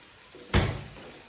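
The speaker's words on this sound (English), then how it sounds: "Now take a kadai and add 2 to 3 tablespoons of oil. Any oil you can use and add potato pieces." Potato pieces drop into hot oil in a kadai, giving a sudden loud burst of sizzle that fades quickly into a softer hiss.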